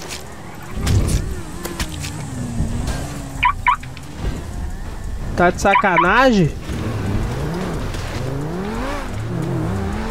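A car is stolen and driven off in the GTA RP game. The engine revs and whines with rising and falling pitch, broken by short sharp bursts, while someone speaks over it.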